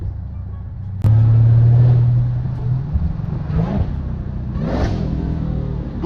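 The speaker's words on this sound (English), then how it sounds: "Them downshifts sound crazy too" A Dodge Hellcat engine suddenly roars to a loud rev, then eases down through a couple of lower rising-and-falling revs as it downshifts gears.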